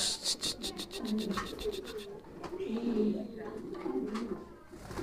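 A pigeon coos repeatedly in low, throaty bursts close by, after a quick run of rapid clicking, with voices softly in the background.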